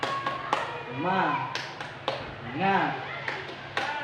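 A classroom counseling group does the Indonesian 'tepuk semangat' spirit clap, sharp claps in a patterned rhythm mixed with chanted vocal calls, close and clear.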